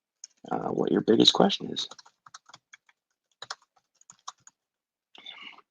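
A person speaks briefly, then quiet, sparse clicks follow from keys tapped on a computer keyboard, with a short run of typing near the end.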